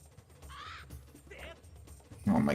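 Crows caw in the Zelda game Skyward Sword HD, two or three harsh calls at moderate distance over quiet game ambience, followed by a louder burst at the end.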